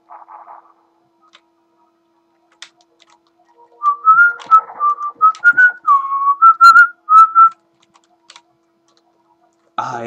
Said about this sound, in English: Ah, yes, the whistling is back.